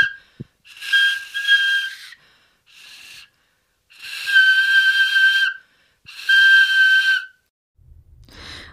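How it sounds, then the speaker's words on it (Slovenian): Breathy whistling tones blown on an iron replica of a bone flute, several sustained notes of one to two seconds separated by pauses, close and fairly loud with audible breath noise. "Že po nekaj sekundah sem iz železne replike izvabila zvok."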